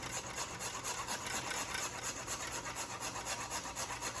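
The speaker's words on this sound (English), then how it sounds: "And I'm going to grate the nutmeg." Whole nutmeg grated by hand for a Caribbean black cake, a steady rhythmic rasping scrape repeated in quick even strokes, close and continuous.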